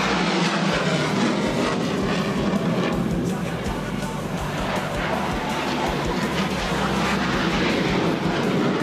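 A loud, continuous roar of fighter jet engines fills the air as the aircraft manoeuvres through high-G turns and a barrel roll during combat training, steady and dense with no pauses.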